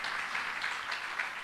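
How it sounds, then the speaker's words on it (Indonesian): A congregation claps together at a church fasting and prayer service, a faint, steady wash of applause with no talk over it. "Tepuk tangan yang lebih hebat bagi Tuhan."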